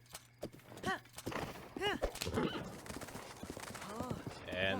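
A horse in the Zelda: Breath of the Wild video game clip-clops in quick steps and gives several whinnying neighs, close and clear, with talk heard in the background.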